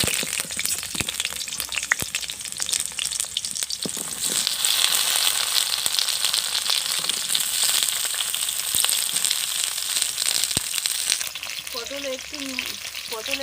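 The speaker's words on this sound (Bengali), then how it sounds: "এবার আমি পটলটা ভেজে নেব।" Pointed gourd (potol) fries in hot oil, giving a loud, continuous crackling sizzle with occasional sharp pops and scrapes, and a brief voice speaks near the end.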